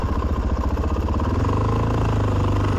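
A Suzuki DR-Z400 motorcycle engine runs steadily after carburetor tuning, a loud, close, even single-cylinder thrum that continues throughout.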